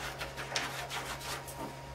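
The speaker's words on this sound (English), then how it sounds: "So I'm going to trim it down." A printed paper sheet is trimmed with a series of quiet rubbing, scraping cuts, repeated strokes over a low constant hum in a workshop with a vacuum heat press.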